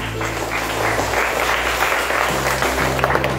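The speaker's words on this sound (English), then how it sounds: "Clap, clap, clap." Students clapping at a school prize distribution, a steady broad patter of applause running throughout, with a low hum and faint tonal background sound beneath it.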